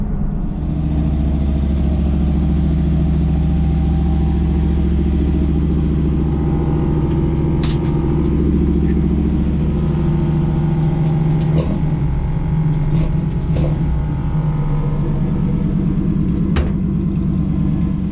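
A 1948 Chevy 3100 pickup truck with airbag suspension drives along with a loud, steady low engine rumble from inside the cab, joined by a few brief rattles and clicks.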